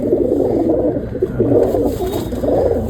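Pigeons cooing close by in a loft, soft rolling low coos repeating in overlapping waves over a faint background hum.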